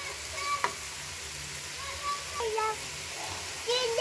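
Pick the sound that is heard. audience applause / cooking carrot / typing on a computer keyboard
cooking carrot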